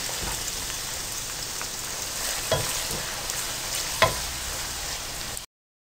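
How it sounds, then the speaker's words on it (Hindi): Sliced onions crackling and sizzling in hot oil as they brown, a steady close fry with a couple of louder pops and stirs. "3 बड़े साइज़ के प्याज स्लाइस में काटें और इनको हल्का ब्राउन कलर आने तक फ्राई कर लें।"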